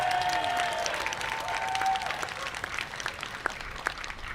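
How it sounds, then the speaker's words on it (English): An audience at a May Day International Workers' Day rally applauds steadily, with dense, continuous clapping and a few sharper claps standing out near the end. "Let's give him a round of applause."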